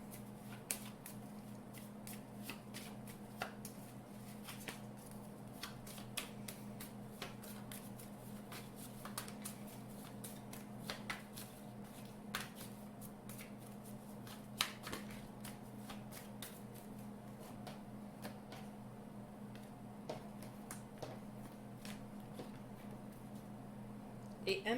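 A deck of Mystic Fairy Tarot cards is shuffled over and over at close range, making soft riffling and slapping bursts above a low, constant hum.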